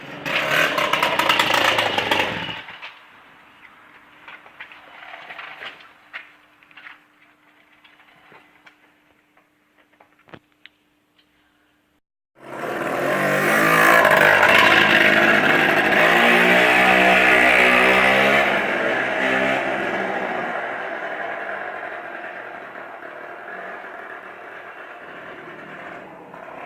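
An MBK 51 moped's small two-stroke engine starts after quiet ticking and brief fumbling, then runs loud and steady at close range, buzzing without pause to the end.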